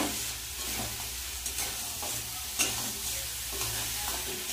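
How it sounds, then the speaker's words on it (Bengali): Crab and potatoes stir-fry in spice paste with a steady sizzle and repeated scraping stirs in an even rhythm, close and moderately loud, with no talking. "আলু কাঁকড়া আর একদম মশলা দিয়ে ভালো করে কষিয়ে নেব।"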